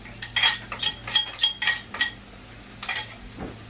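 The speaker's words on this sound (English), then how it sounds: "And then we're just going to stir them in" Spoon clinking against a bowl while grated ginger and garlic are stirred into a marinade, a run of quick metallic taps, a pause, then one more tap.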